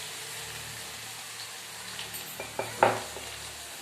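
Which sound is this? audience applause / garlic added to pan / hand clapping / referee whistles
garlic added to pan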